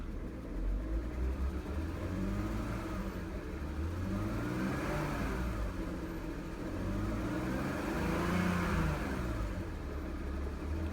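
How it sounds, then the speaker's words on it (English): A 2005 BMW 325i engine with a manual transmission and 137,000 miles revs in two smooth swells, pitch rising and falling, over a steady close idle rumble with no talk. "Revs up nice and smooth."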